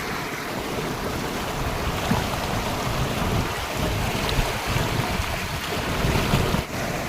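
Strong glacier-fed stream rushing at Zojila Pass, high in snowy mountains, a loud continuous broadband roar of fast water with wind buffeting the microphone, steady throughout with no voices.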